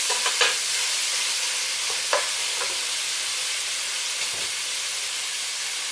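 Chicken frying in olive oil in a pan makes a loud, steady sizzle and hiss close by, with a few faint clinks early on.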